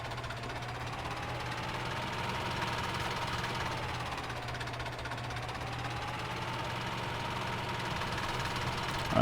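A small two-wheel drive tractor engine idles in Farming Simulator 17, a steady low knocking rumble with a faint wavering mid-pitched whine, continuous and moderately quiet with no talk.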